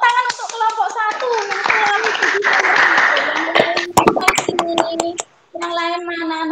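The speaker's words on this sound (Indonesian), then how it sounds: "Tepuk tangan untuk kelompok satu." Classroom applause for the first group of fifth-grade pupils, a burst of children clapping together over a spoken prompt, then sharp scattered claps, a brief gap and renewed clapping with children's voices.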